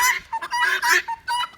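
Nearby fowl call in loud, nasal honking bursts, several in quick succession with short gaps, and no speech over them.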